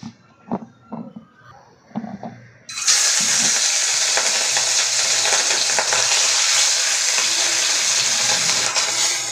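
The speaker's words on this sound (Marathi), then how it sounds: "मी ऑइल घेतला आहे, आपल्याला फिश तळून घ्यायचं आहे याच्यामध्ये।" Fish sizzles loudly as it fries in hot oil for a fish curry, a sudden sustained crackle that starts after a few seconds of soft kitchen clatter and holds steady to the end.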